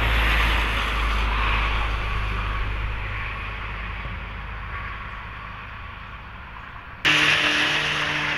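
A Harapan Jaya bus on the Madiun–Jakarta route passes from the opposite direction: a steady, loud road rumble that eases slightly, then jumps sharply in volume near the end, with no voices.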